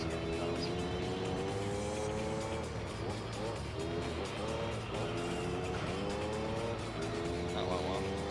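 An LMP Dragon race car engine in Gran Turismo 3 howls continuously, its pitch climbing and dropping through gear shifts, while someone talks over it.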